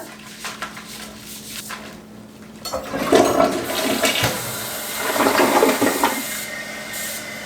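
A household toilet flushes after being scrubbed with a brush, opening with a clunk of the handle, then a loud swirling gush of water that surges twice and keeps draining.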